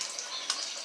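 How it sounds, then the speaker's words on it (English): Hands being rinsed one-handed under a running tap while brewing mead, a steady close hiss of flowing water splashing, brief and unbroken. "I gotta wash my hands"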